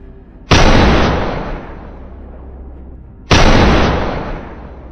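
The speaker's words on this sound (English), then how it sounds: "A sharp shot rang out, sending the prey into eternal sleep without a warning." Two loud, sharp rifle shots, each a sudden blast followed by a long rolling echo that decays over a couple of seconds, the second about three seconds after the first, heard outdoors across a field during a wild boar hunt.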